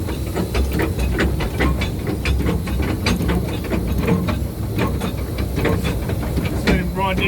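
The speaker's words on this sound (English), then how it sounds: "Then I'll chuck a little bit of brake on." A miniature steam train hisses steam with rhythmic chuffing bursts as its brake is applied on a downhill run. The hissing is close and steady, with a voice speaking at times over it.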